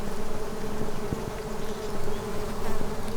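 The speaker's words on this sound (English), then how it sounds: "I always wondered where all these bees came from." Long-antennaed bees, not honeybees, buzz on a Portuguese farm, a dense, continuous drone of several insects close by, with wingbeats rising and falling in loudness and no voices.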